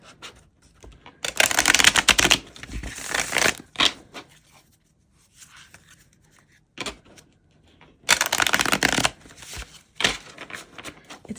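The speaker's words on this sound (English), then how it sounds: "So let's give this a quick shuffle" Hands shuffling a deck of tarot and oracle cards, two loud bursts of riffling with scattered softer card taps and handling noises between them, close up with no talking.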